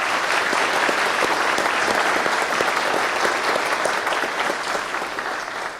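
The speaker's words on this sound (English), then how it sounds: "join me in giving a round of applause to all 3 of the speakers collectively" Sustained applause from an audience at a Veterans Day ceremony, honoring three speakers: a steady wash of many hands clapping that holds evenly and tapers slightly at the end, with no voices over it.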